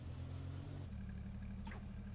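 A vehicle engine hums low and continuous in the H1Z1 video game, its tone shifting partway through before a quick high sweep passes.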